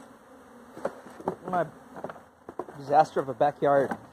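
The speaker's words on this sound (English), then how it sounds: "There's just bees flying everywhere." Bees swarm in a backyard around a tub of syrup and crushed honey, their buzzing constant and close beneath brief talking.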